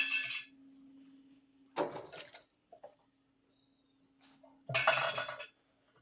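Cans of sweet corn tipped into a pan for corn pudding: two bursts of clinking metal and sloshing, each lasting about a second, separated by quieter gaps over a steady low hum.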